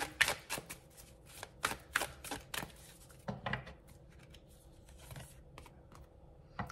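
Cartomancy cards drawn from a deck during a reading, making a string of sharp papery snaps and slides, fairly close and quiet, bunched in the first few seconds and then tapering off to sparse soft rustles.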